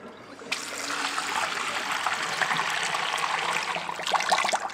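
Fresh water pours over soaked almonds in a container, a steady splashing stream starting abruptly and running continuously up close, with no talk.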